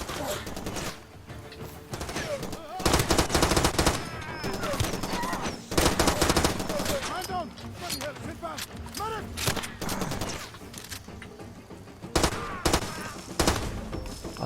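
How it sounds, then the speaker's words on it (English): Repeated bursts of gunfire in Far Cry 2 hit hard and loud, with several heavy volleys spread across the stretch amid constant game noise and some speech. "I'm getting shot. Stop shooting me!"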